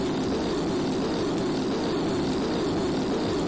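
Steady, loud droning roar of an airplane flying in the video game Sheep, Dog n' Wolf, a continuous engine hum with faint regular ticks and no talk.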